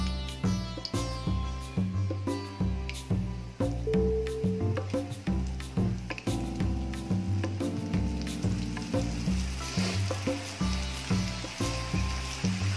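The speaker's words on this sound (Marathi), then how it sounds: "जे आता आपल्या भेंड्या आहेत त्यांना आता आपण थोडे थोडे करून तळून घेणार आहोत" Okra frying in small batches in hot oil in a kadhai gives a steady crackling sizzle that runs throughout, partly under background music.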